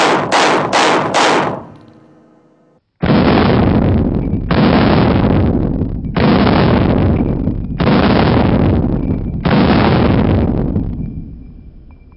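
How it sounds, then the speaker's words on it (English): A pistol fired from the prone position: a quick string of four sharp shots, a pause, then five heavy booming reports at about one-and-a-half-second intervals, each ringing out before the next. "If I fire a few rounds in this position, watch how the gun moves in recoil."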